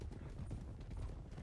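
A horse's hooves clip-clop in the video game WildRP, a quick run of soft, quiet thuds at a steady trotting pace, heard alone without voices.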